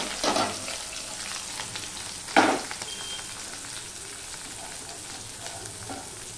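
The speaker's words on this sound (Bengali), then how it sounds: "আমি এখানে লঙ্কা পেঁয়াজ কুচিয়ে রেখেছিলাম, সেটা আমি দিয়ে দিলাম।" Chopped green chili and onion land in hot oil in a wok, first with a loud burst of sizzling, then settling into a steady close crackle with a few stirring scrapes.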